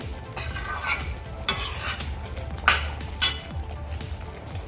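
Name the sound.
stirring Kashmiri rajma masala in a pan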